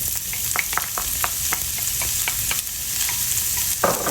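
Carrots frying in hot oil in a pan while being stirred, a steady close sizzle broken by repeated short clicks and scrapes of the utensil, with a louder stir near the end.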